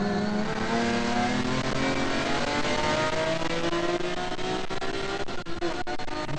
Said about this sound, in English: And just listen to the revs as they head up and into